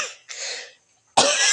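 Three harsh coughs from one person, two quick ones close together, a short pause, then a louder, longer bout, close and clear with no talking.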